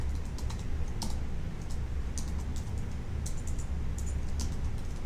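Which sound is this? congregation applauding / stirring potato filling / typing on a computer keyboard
typing on a computer keyboard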